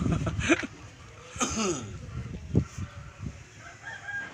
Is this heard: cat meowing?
no